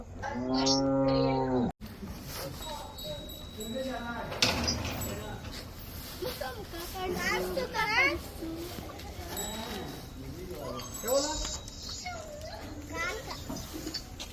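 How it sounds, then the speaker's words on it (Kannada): A young calf at a Bengaluru dairy farm moos loudly at the start, then people and children chatter nearby, with a few more faint animal calls mixed under the voices. "ಚೆನ್ನಾಗಿದೆ ಪಾಪ ಕರು"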